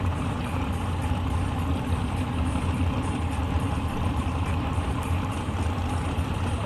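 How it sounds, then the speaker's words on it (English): Pontiac GTO at a drag race, a steady, loud engine rumble with a rough low idle that holds throughout, close by and with no voices over it. "What a Pontiac GTO rolling up."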